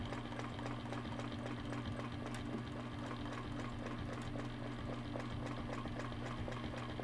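Sewing machine stitching a line on a quilt, a fast steady mechanical whirr with even rapid needle ticks, close and continuous, with no voices.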